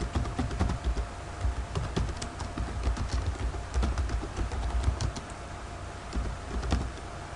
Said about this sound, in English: So the first thing I'm going to do is type into the standard search bar